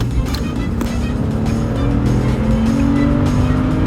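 BMW 5 Series accelerating hard from a green light, a loud steady engine drone with a rising harmonic tone building continuously from inside the cabin, with no talking over it.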